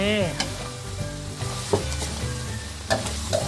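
Wood ear mushrooms stir-fried in sesame oil, with a loud steady sizzle close by and repeated scraping clinks of the spatula against the pan, no voices.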